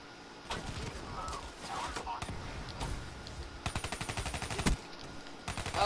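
Gunfire in Call of Duty Black Ops 3 on an open woods map: sporadic shots early, then a rapid burst of automatic fire near the end, loud and close over game ambience.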